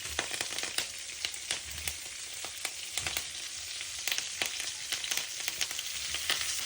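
Onion, ginger, garlic and curry leaves sautéing in melted butter, a soft continuous sizzle with light crackles and occasional scraping ticks from stirring, fairly quiet and close, with no voices.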